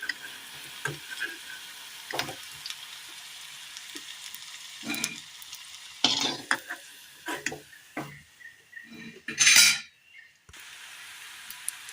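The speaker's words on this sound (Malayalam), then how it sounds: "മാവ് വീണ്ടും നമ്മൾ എണ്ണയിലേക്ക് ഇട്ട് കൊടുത്തിട്ടുണ്ട്. എല്ലാം ഒന്ന് റോസ്റ്റ് ചെയ്ത് കോരിയെടുക്കാം." Jackfruit snack batter frying in oil, soft intermittent sizzling broken by clinks and scrapes of a utensil, with one short loud burst of bubbling near the end.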